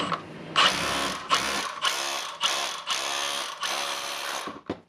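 A Milwaukee hammer drill with a weak-hammering fault, just serviced with a repair kit, hammers in loud rapid bursts, about six pulses of harsh mechanical rattling separated by brief pauses, close up with no talking.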